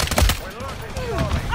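Bursts of gunfire crack and rattle in a Modern Warfare 3 match, loud and close, with rapid shots and game sound effects layered under faint voices.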